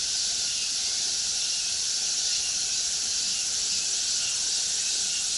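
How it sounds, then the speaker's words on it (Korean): Cicadas chirp in a dense, unbroken high buzzing drone that holds steady and fairly loud throughout, with no other sounds. "그 매미들이 이렇게 끊임없이 울어대는 것도"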